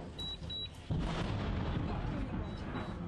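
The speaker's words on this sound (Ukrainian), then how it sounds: "Вибух! Спалах бачили?" A heavy explosion from artillery and missile shelling in the city of Bakhmut lands with a sudden deep boom, then a sustained loud rumble fills the rest of the moment. A thin high tone sounds faintly in the background.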